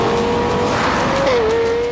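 The 4.8-litre V10 of a Lexus LFA revs hard toward 9,000 RPM, a loud, continuous high-pitched engine wail rising and holding steady, close and alone.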